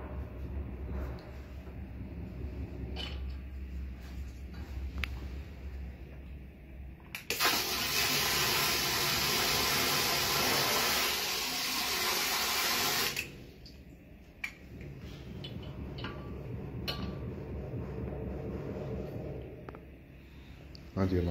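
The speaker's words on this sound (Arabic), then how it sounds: "هادي هي لا دوشات سخون والبارد" Water gushes loudly from a hot and cold shower mixer in a newly fitted modern bathroom for about six seconds, then stops abruptly, with someone talking quietly before and after.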